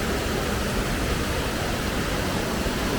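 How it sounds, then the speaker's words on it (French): A small stream flowing just below a terrace makes a continuous, fairly loud rushing wash of water that stays even throughout, with no voices over it. "Le petit ruisseau qui passe juste en dessous."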